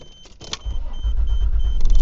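A Toyota Land Cruiser, an old abandoned off-road build under restoration, starts moving: a few mechanical clicks, then a loud, low engine rumble that steadily builds as it pulls away.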